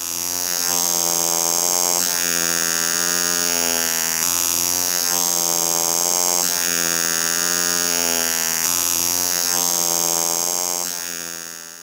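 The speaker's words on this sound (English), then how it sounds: "it is much louder on the closed case back version, helping the sound reverberate more effectively within a contained steel package" A Vulcain Cricket mechanical alarm watch in a closed steel case back buzzes loudly and continuously with a harsh, reverberant metallic drone that pulses slightly in strength, heard alone.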